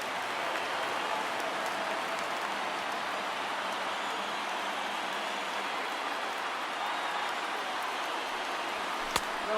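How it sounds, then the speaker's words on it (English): Baseball stadium crowd in MLB The Show 19 cheering during a late rally, a dense, steady roar of voices and applause-like wash that holds at constant loudness throughout, with no distinct speech on top. "listen to this crowd now. They are really into this."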